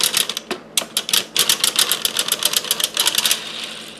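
A 3D printed knitting machine carriage is pushed back in reverse across the needles, giving a quick run of sharp, evenly spaced mechanical clicks and clacks, close and fairly loud, with no talking.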